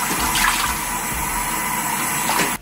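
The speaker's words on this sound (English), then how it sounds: "And then I'm gonna rinse it off." Water from a tap runs steadily as cleanser is rinsed off a face at a bathroom sink. The splashing is close and loud and cuts off abruptly at the end.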